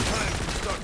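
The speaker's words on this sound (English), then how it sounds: "That is really good DPS for an old-fashioned weapon like the MP40." An MP40 submachine gun fires in a zombies video game: a dense, loud, continuous burst of rapid shots with no pauses, alone and up close.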